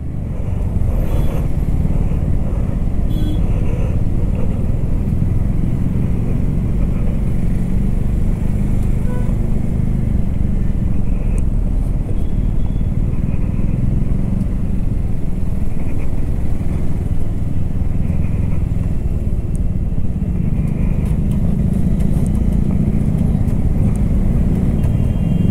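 Continuous engine and road noise from a 2023 Hero Xpulse 4V Pro Rally Edition motorcycle ridden on an open road, steady and close throughout with no talk.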